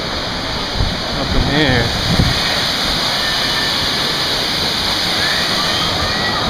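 A Finger Lakes waterfall roars up close, heard from right under its spray, a loud constant wash of falling water. A person talks briefly over the rushing torrent.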